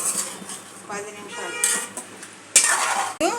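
Chicken pieces stirred with masala in a metal pan: scraping and clinking of a spoon against the pan, ending in a couple of louder knocks.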